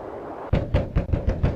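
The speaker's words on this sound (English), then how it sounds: "I just bang on it with both Graham fists. pounds on the door" Graham pounding both fists on a door bolted from the inside in the video game King's Quest 5: about six heavy, evenly spaced thumps in a steady rhythm, close and loud.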